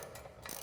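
A ratchet clicks rapidly at close range while tightening the mounting bolts on an ATV snow plow, a short, faint burst of metallic ticking.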